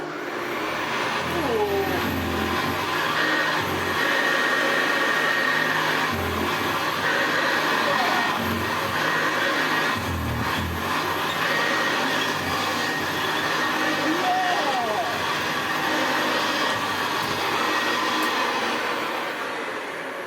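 A 1970s Co-op special Hoover Senior U4058 upright vacuum cleaner runs with a steady, loud, dry-sounding motor drone that holds even throughout, close by, with faint voices now and then.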